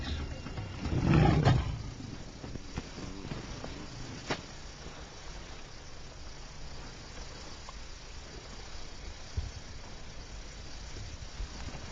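Lion roaring close by, one short deep rumbling roar early on, followed by quiet rustling, scattered clicks and faint low background sound with no voices.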